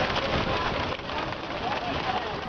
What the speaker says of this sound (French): Le vent est de plus en plus violent, la pluie de plus en plus forte.